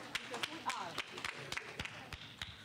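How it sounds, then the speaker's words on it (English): A school audience at a girls' STEM event breaks into scattered, uneven clapping, quiet and somewhat distant, with individual claps standing out and voices mixed in. "Let's give ourselves a big, big applause."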